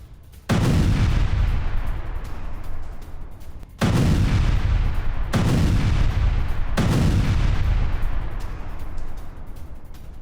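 Artillery fire during an attack in Syria, four heavy booming blasts a few seconds apart, each rolling into a long loud rumble that fades slowly before the next.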